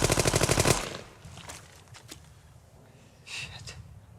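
Rapid machine-gun fire from a Band of Brothers war scene rattles loudly in a fast burst, then breaks into scattered single shots and a few later cracks.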